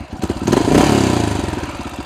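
A Honda XR650L single-cylinder motorcycle engine runs at a low idle after a carburetor mixture adjustment, a steady close thumping pulse with slight rises and falls and no talking.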